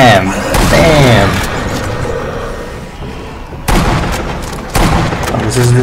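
Sniper rifle gunfire in the Nazi Zombie Army video game: sharp, loud shots cut through a busy mix of game sounds, with two abrupt blasts standing out near the end.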